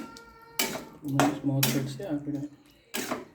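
A spoon stirs a cauliflower, potato, capsicum and pea curry in a metal pan, making several clanking scrapes against the pan while a voice talks over the stirring.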